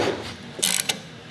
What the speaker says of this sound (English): You want to double check it with a ratchet?